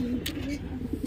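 A pigeon coos softly in a low, throaty warble, with a brief rustle partway through and a couple of short coos at the end.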